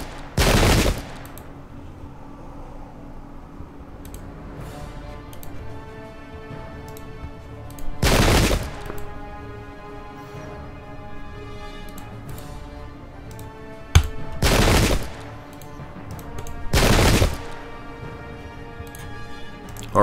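Musket volleys crack out in the Pike and Shot strategy game, four loud bursts spaced several seconds apart over a steady ticking, droning game soundtrack with no talk.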